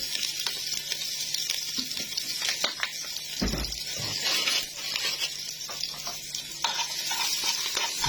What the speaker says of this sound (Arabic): هنحط شوية زيت كده ودهنة عشان نشوح اللحمة فيه